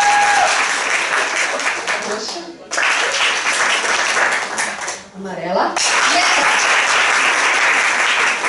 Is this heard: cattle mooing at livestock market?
no